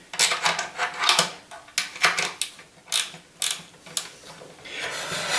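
A TSO Power Loc toggle clamp being loosened, giving a quick series of close metallic ratcheting clicks in an uneven rhythm, each click sharp and short over a faint background.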